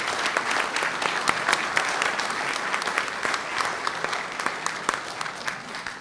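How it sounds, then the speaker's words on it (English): Audience applause at a school board business meeting: a steady, dense round of clapping from a crowd in a meeting room, fairly close and sustained throughout without a break. "I'd like to give them a round of applause."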